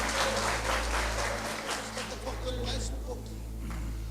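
Church congregation applauding during a sermon, dense clapping that thins and fades over a low steady hum, with voices mixed in.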